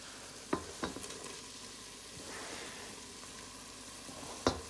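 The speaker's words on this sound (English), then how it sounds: "I'm gonna go in with the green onions and the onions" Green onions and onions hitting hot oil in a pot over raised heat for a Guyanese boil and fry provision dish, giving a soft continuous sizzle with a few sharp clacks of a utensil against the pot.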